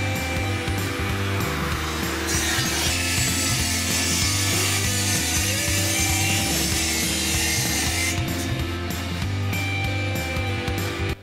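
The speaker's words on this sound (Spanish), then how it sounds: "este trozo de remate del listón que hemos cortado longitudinalmente" Power saw ripping a composite fence slat lengthwise, a loud continuous whining cut with a steady motor hum for the whole stretch, no talk.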